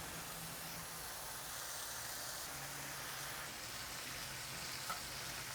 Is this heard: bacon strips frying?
yes